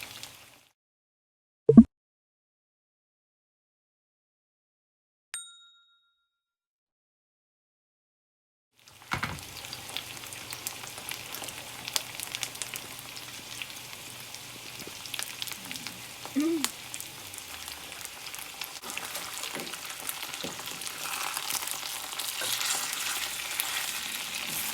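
Chicken pieces fry over medium heat in a cast iron skillet for a chicken cashew stir fry. A few isolated clicks and knocks come first, then a steady, crackling sizzle begins and continues to the end.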